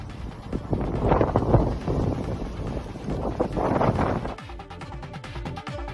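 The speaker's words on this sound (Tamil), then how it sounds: "சுற்றி அடித்த புழுதி புயலால் நகரமே புழுதி மண்டலமாக காட்சியளித்தது" Strong wind from a dust storm in a Saudi Arabian city roars and gusts across the microphone in rushing surges, then suddenly drops to a thinner rattling hiss.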